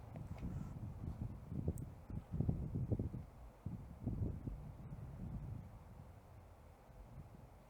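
Wind gusting across an open disc golf course during a winter league final, a low rumbling roar buffeting the microphone in uneven surges, strongest in the middle and easing toward the end, with no talk.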